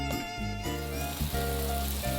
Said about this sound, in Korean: 불판 위에서 지글지글 소리와 함께 식탐을 자극하는 냄새가 진동하는데요